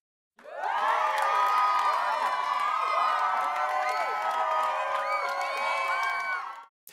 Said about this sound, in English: Let's give our flannel graphers a big round of applause.